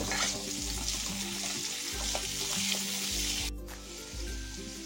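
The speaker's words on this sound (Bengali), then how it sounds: "অল্প একটু হলুদ দিয়ে করলাটা একটু ভেজে নেব" Bitter gourd (karela) frying in oil with a little turmeric, giving a steady close sizzle with faint stirring and clatter throughout, no talking.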